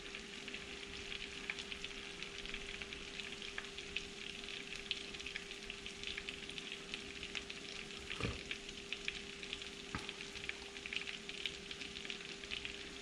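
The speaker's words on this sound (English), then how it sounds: "Looks like I'm going to get about 6 of these fillets in the pan." Bluegill fillets, about six of them, fry in a pan with a steady, even sizzle and crackle that holds throughout, with a couple of brief louder pops and no talking.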